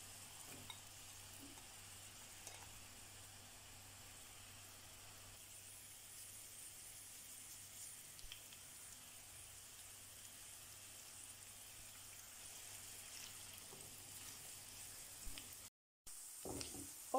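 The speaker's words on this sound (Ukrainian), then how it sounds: "Вкидаємо в сковорідку і обсмажуємо на соняшниковій олії до готовності." Zucchini pieces fry in sunflower oil in a pan, giving a faint, steady sizzle with occasional soft crackles and stirring sounds, with no one talking.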